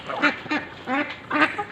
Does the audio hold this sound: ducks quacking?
yes